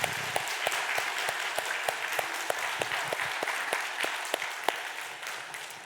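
Congregation clapping together during a Sunday church service, a steady rhythmic applause of many hands in a reverberant hall, fairly even in level for several seconds with no voices over it.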